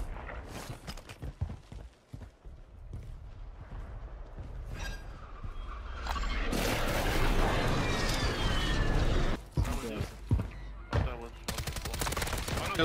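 Gunfire from the BAS-B rifle during a Warzone match: several sharp shots early on, then a loud sustained burst of rapid fire lasting several seconds, with more shots near the end as players talk over it.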